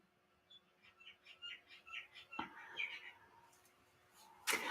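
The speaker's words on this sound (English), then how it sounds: "You hear the birds? Yeah. They're noisy." Birds chirp and tweet outdoors in a rapid scatter of short, bright calls, moderately close, with a louder burst at the end; no one speaks over them.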